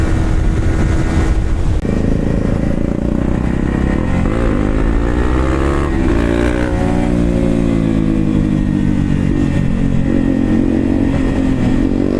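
A motorcycle with a worn chain sprocket and weak pickup drones steadily and loudly throughout on the Yadagirigutta route, its pitch rising and falling as the rider speeds up and eases off, with wind rush.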